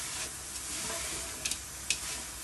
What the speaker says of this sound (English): So while we're stir frying this as well, we will add the mash.